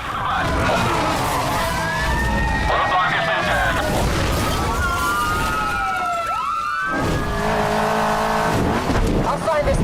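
Cars race in the video game Need for Speed Unbound, with loud, close engine roars rising and falling and wailing police sirens sweeping in pitch over continuous tyre and road noise.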